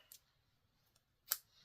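Scissors cut a piece of paper in half while tags are made from craft scraps: two quiet, crisp snips about a second apart, the second louder, with near silence between.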